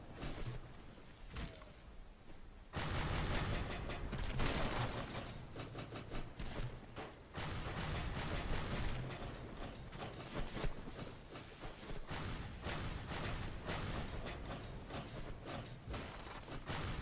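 Cannon fire from a pirate ship battle video game, dense and continuous with repeated booming hits layered over loud game sound for the whole stretch, no pauses.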